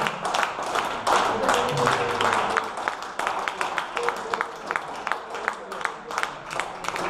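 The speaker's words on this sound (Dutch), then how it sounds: "Geef de Heer een daverend applaus." A church congregation claps and cheers, first a loud burst of mixed applause, then settling into quicker, rhythmic clapping that continues steadily through the rest.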